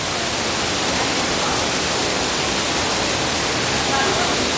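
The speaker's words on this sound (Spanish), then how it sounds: "Una cascada hermosa, hermosa." A waterfall roars in a steady, dense rush of falling water, close and loud throughout with no break.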